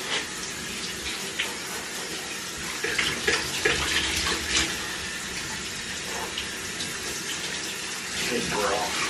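Bath water runs and splashes as a dog is rinsed in a tub, a continuous close rushing stream with shifting splashes and surges, while a person speaks softly at times.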